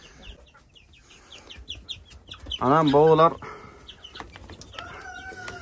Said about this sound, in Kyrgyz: 20 күн болгондо кыйкырып баштаган короз ушул мынакей